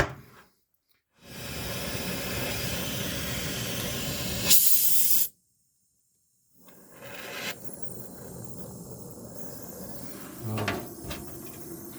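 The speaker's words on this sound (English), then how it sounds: "This is the last little weld on the last body mount." Hissing bursts of welding on a car body mount, two long steady buzzing runs separated by silence, then a quieter stretch with a few clanks.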